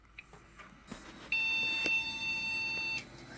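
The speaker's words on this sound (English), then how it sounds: "And immediate beep." A custom-built Athlon PC gives a single steady electronic beep on power-up, a loud continuous tone lasting about two seconds after a few faint clicks, with no talking.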